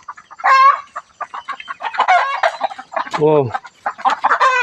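Chickens ranging outdoors at a Thai temple after rain cluck loudly and close, with one rooster crowing partway through, while someone speaks briefly underneath.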